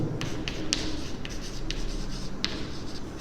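A hand writes out a symbolic logic statement, with short scratchy strokes and taps in an irregular rhythm, close and fairly quiet.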